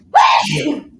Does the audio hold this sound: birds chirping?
no